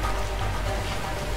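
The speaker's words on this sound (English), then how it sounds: "Waterfall! Waterfall!" Rushing water from a waterfall in the video game The Way Out, a steady broadband roar that fills the whole moment with no breaks or other sounds standing out.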